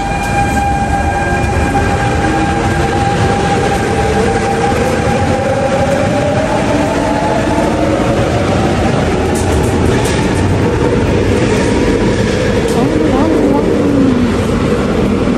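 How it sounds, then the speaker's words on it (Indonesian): A train passes through a railway station on the outskirts of Paris, its steady rumble and long sliding tonal whine running loud and continuous throughout, with faint voices in the background. "Nah ini stasiun Paris."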